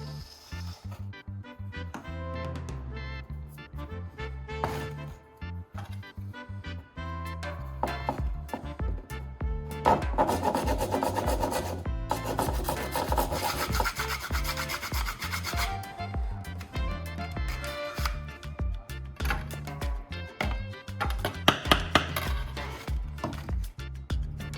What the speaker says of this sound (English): I'll take another piece of plastic tubing and cut it lengthwise.